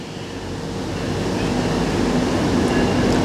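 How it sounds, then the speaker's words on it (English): A train rolls past near an abandoned restaurant in Brampton, a broad low rumble that builds gradually and holds steady, with a faint tonal squeal riding on top. "We have another train going by"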